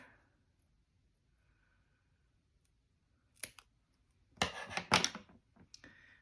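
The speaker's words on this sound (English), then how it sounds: "I am going to cut the sides off of these." Scissors snipping the sides off paper planner tabs, a single sharp click followed by a short burst of crisp cutting snips nearby, then a faint rustle of paper.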